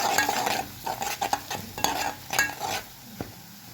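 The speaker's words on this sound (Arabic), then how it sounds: "هنقلب بالثوم وشوية الكزبرة لحد ما يتحمروا حلو" A spoon scrapes and stirs garlic and coriander frying in a pan, with repeated clinking strokes over a steady close sizzle and no talking.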